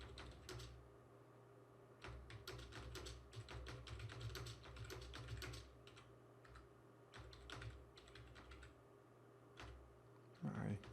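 Quick bursts of close, crisp keystrokes on a computer keyboard patter in uneven runs with short pauses as simple text is entered for a WordPress page, with a voice speaking among them.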